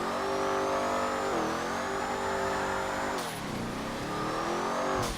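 A customized Z-Type car in GTA 5 holds a loud, steady engine drone with rising revs, a shift-like dip and a climb again, continuous and close with no talking.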